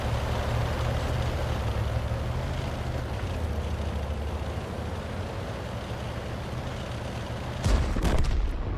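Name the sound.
tank gun firing in a tank video game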